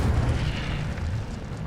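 An Incendio fire spell cast in Hogwarts Legacy erupts as a loud, rumbling burst of flame that stays low and heavy throughout its short span.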